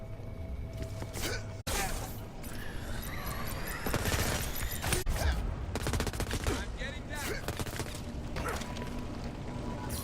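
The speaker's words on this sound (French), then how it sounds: "Qui me tire dessus?" Rapid bursts of gunfire crackle almost nonstop through the Crackdown 3 video game battle, loud and dense, with scattered explosive impacts and occasional voice sounds mixed under the shooting.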